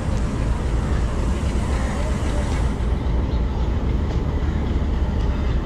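The Millat Express, 18 Down, passes close behind HBU-20 diesel locomotive 8046, a loud, steady rumble of rolling wheels and carriages that stays even and dense throughout, with no voices.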